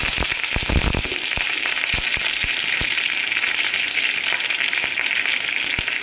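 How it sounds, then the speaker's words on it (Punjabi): Curry leaves sizzle and crackle in hot desi ghee, a steady loud frying hiss with sharp pops scattered throughout, close up and with no talking. "ਘਿਓ ਆਪਣਾ ਗਰਮ ਹੋ ਚੁੱਕਾ ਹੈ ਇਹਦੇ ਵਿੱਚ ਪਾਨੇ ਆਪਾਂ 8-10 ਪੱਤੇ ਕੜੀ ਪੱਤਾ"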